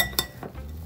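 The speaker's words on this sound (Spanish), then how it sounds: "lo revolvemos, que quede todo bien incorporado, las blueberries, las fresas, el limón y el azúcar." A utensil clinks against a bowl while chopped strawberries, blueberries, lemon juice and sugar are stirred together, giving one sharp close tap and a softer second knock in under a second.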